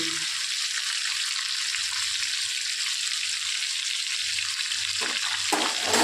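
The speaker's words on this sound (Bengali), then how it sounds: "উল্টো পিঠটা আমি ভালো করে ভেজে নেব" Chicken pieces fry in hot oil in a pan, making a loud, continuous close-up sizzle and crackle with faint low knocks near the end.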